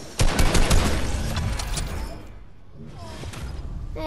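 Fortnite gunfire opens with a dense, loud burst of rapid shots that fades into quieter scattered shots and mechanical clicks, with a voice briefly heard.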